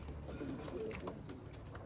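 Tippler pigeons coo faintly in a loft, a couple of brief low coos in a quiet room with no talking.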